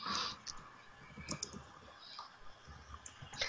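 Quiet, rapid clicking of computer keyboard keys in quick irregular bursts, faint and close, with no speech.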